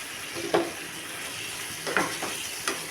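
Spiced pointed gourd (potol) curry stirred in a pan with oil, a steady sizzle and frying hiss broken by a few scraping stirs against the pan, close and fairly quiet.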